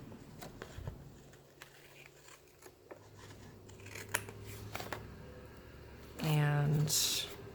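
Scissors snipping off pieces of paper for a reading journal, several quiet cuts followed by one louder, closer snip near the end, with soft talking in the background.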